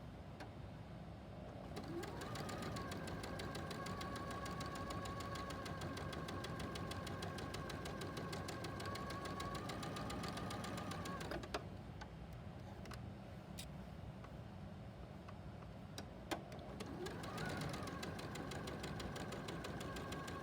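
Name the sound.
sewing machine stitching fabric pieces, stitch length 1.8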